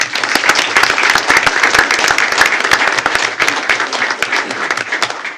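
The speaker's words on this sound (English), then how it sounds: "one round of applause for Ms." Loud, close applause fills a school board of trustees meeting as the audience honors a teacher, with dense clapping sustained for over five seconds.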